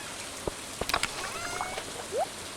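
Rain falls in the farming video game Stardew Valley, a soft steady patter with a few sharper drip and splash accents scattered across it.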